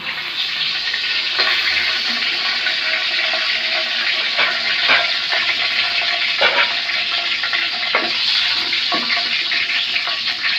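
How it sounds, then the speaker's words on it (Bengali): Whole spices hit hot oil in a pot for a chicken curry, making a bright, continuous sizzling hiss broken by scattered sharp crackles and pops across the whole stretch. "তেলটা গরম হয়ে গেছে, এখন আমি গোটা মশলাগুলো দিয়ে দিলাম।"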